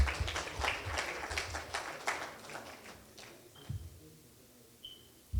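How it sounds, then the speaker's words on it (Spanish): An audience at an evening talk on fundamental rights in Tacna claps in a burst of applause that thins out over several seconds, leaving scattered faint claps. "La recibimos con aplausos, por favor."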